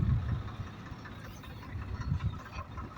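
A 55 hp tractor engine runs steadily close by, a low, knocking idle rumble with slight surges, no voices over it.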